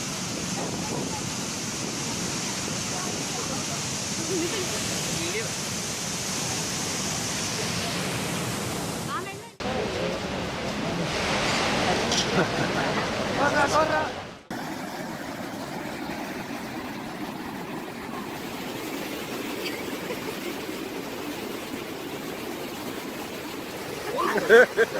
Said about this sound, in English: Excessive downpour of rain in South India resulted in a massively wild waterfall.